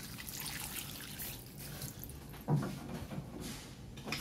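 Water trickles and splashes faintly into a cooking pot for mussel and chayote soup seasoned with pepper, chicken powder and fish sauce, a quiet steady pour with a brief louder splash midway.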